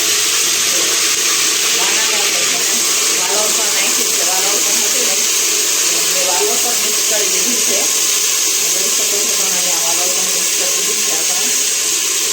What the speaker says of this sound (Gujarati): અહીંયા દાળ ઉકળી રહી છે